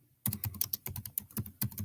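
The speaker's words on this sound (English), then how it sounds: "just pounding away at that keyboard" Close, rapid clatter of fingers pounding a computer keyboard, keystrokes landing in quick uneven bursts with a short pause partway through.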